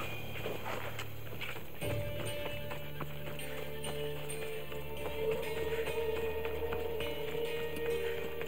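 Horse hooves clip-clop in a steady rhythm in Assassin's Creed Odyssey, close and moderately loud over a game soundscape with music, without talk.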